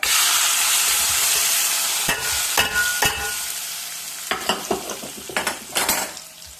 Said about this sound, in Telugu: తాలింపు చక్కగా పప్పులో వేసేసుకున్నాం